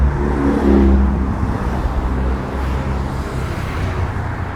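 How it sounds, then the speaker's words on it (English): Sports cars in a convoy drive past on a road near the Porto Pi area of Palma de Mallorca, a loud, steady engine roar and tire rumble that swells early and then slowly eases, with no talk. "A little bit of a sports car convoy there."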